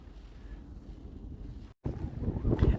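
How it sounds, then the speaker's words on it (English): Wind buffets the microphone outdoors in wet weather, a low, blustery rumble that briefly cuts out, then returns stronger and gustier. "it's really windy and a bit wet"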